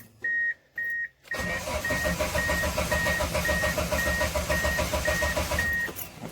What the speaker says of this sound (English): I'm gonna put the key in the ignition and see if she's gonna start right up